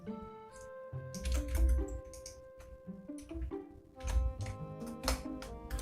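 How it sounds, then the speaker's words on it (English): Typing on a computer keyboard during a pharmacology study session, with bursts of rapid key clicks separated by short pauses, close and fairly loud, with no talking. "I'll type them in here."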